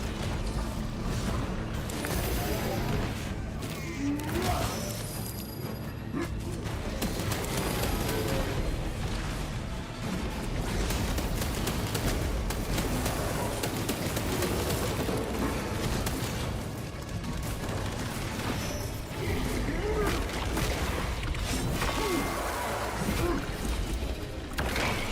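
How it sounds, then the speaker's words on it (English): Dense, loud combat fills the execution animation in Space Marine 2, with booming impacts, crunching hits and mechanical clanks running without pause, under a steady game score. "this execute animation is pretty fucking insane"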